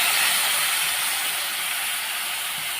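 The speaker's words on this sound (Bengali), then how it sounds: "তেলের মধ্যে দিয়ে দিচ্ছি আদা রসুন পেঁয়াজ বাটা।" Ginger, garlic and onion paste dropped into hot oil, a loud, bright, continuous hiss of sizzling that holds steady and fades slightly over a few seconds.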